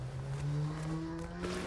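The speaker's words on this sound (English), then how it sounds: "there's someone with an overly loud exhaust out in the estate." A car with a loud aftermarket-style exhaust idles and revs outside on a housing estate, a steady low drone with a rising engine pitch, heard fairly clearly from a distance with no talking.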